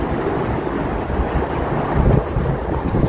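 Strong wind roars steadily against the microphone outdoors by open water, a dense buffeting rush with waves faintly beneath, loud and close with no voices.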